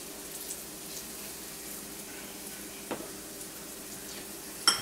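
Green tomatoes fry in a pan with a faint, even sizzle, quiet and close, broken by a couple of small taps and clicks.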